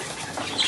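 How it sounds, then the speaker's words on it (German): A pet bird flaps its wings in a brief, close burst of soft fluttering rustle lasting under a second, alone without talk. "Du bist der Helga-Vogel"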